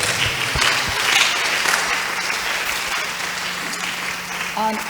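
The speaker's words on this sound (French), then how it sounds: "Applaudissons pour le Seigneur." Church congregation applauding during a workers' meeting, a loud sustained wash of clapping that eases slightly toward the end, with a voice coming in over it at the close.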